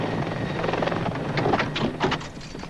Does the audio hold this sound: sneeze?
no